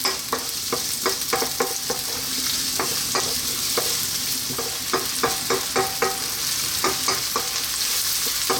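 Chopped onion fries in a pan over fairly lively high heat, a loud continuous sizzle with frequent quick scraping stirs and spatula clacks in an irregular rhythm, no one talking.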